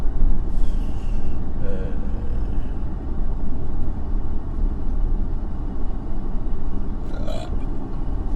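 Traffic rumble from cars arriving and moving slowly at a busy UiTM campus during a convocation day, a steady low engine drone with a brief air-brake-like hiss near the end, fairly loud and continuous.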